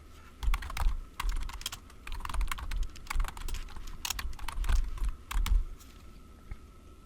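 Rapid, irregular keystrokes on a computer keyboard as code is typed for a Raspberry Pi Pico LED project, close and distinct with bursts of clicks and brief pauses, no speech over it.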